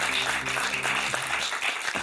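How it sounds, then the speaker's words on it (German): A studio audience applauds, a dense, even wash of clapping that holds steady from start to finish at moderate loudness. "Auf Wiedersehen, Applaus für Evolution."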